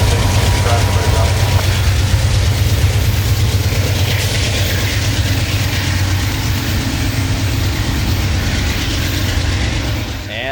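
A freight train rolls past close by at the Dade City siding in Florida, with loud, steady rumbling and rhythmic clanking of wheels and couplings, slowly fading slightly at the end.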